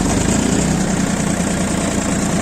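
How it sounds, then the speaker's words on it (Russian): An ISEKI TU217 four-wheel-drive tractor engine idles steadily and loudly up close, a continuous low rumble with even throb and vibration and no talk. "Трактор работает замечательно,"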